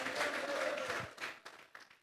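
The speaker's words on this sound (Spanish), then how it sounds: "Vamos a regalarle ofrenda de palmas al Dios de la gloria" A church congregation applauds in a dense burst of clapping that fills the room, then thins out to a few scattered claps, with voices faint underneath.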